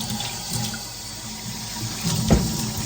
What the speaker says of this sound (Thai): เปิดน้ำให้ร้อนสุดเลยค่ะ